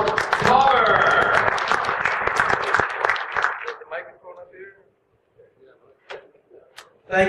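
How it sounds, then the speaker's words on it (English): Audience applause for speaker Tom Palmer at a conference, dense and steady for about four seconds before thinning into scattered claps and fading to near silence. "So let's hear a big round of applause for Tom Palmer."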